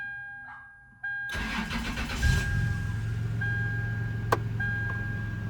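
A car engine is switched off to near silence with a faint chime, then cranks and restarts with a quick flare of revs before settling into a steady, moderately loud idle nearby; no one speaks.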